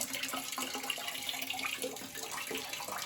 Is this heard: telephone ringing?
no